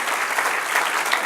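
A church congregation applauds, a steady, dense wash of many hands clapping at once, loud and close throughout the brief moment.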